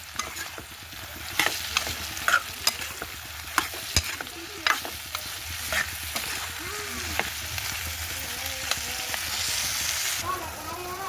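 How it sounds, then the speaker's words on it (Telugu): Cleaned mushrooms fry in a pan with a continuous, fairly close sizzle, broken by repeated scraping and knocking as they are stirred. "ఈ పుట్టగొడుగులు కూడా మనకి ఫ్రై అవ్వాలి ఫ్రెండ్స్ ఫ్రై అయితేనే బాగుంటాయి"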